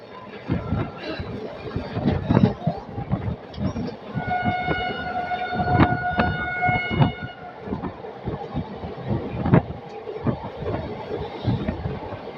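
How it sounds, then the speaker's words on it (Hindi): Jaynagar Express passenger train accelerating through open farmland, a steady rumbling roll of wheels and carriage noise with sharp clacks and a long horn-like tonal blast midway, heard from inside the train. "हमारी ट्रेन एक्सीलरेट कर रही है"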